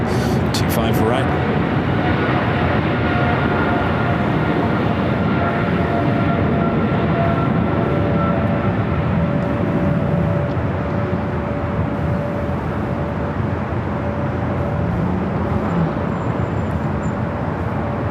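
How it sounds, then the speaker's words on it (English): A Kalitta Air Boeing 777 on its takeoff roll at Los Angeles airport makes a loud, continuous broadband engine roar that stays steady throughout, with a person talking over it. "Coletta Air 777 now rolling it down."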